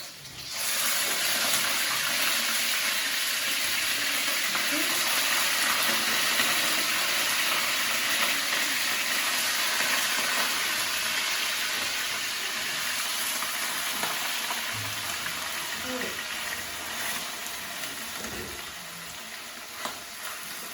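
Mince sizzles in hot oil in a pan, a loud, steady, hissing fry that holds its strength throughout with faint stirring scrapes near the end, no voices.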